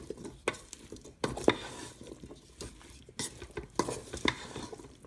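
Hobo stew being stirred in a rice cooker, a utensil scraping and clinking against the pot in repeated strokes with a soft sizzle beneath, close and fairly quiet.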